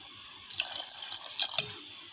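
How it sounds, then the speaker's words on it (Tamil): A short pour of water splashes over soaked sago pearls in a pot, a bright trickling burst lasting about a second before tapering off. "இப்போ கொஞ்சமாக தண்ணி ஊற்றிக்கலாம்."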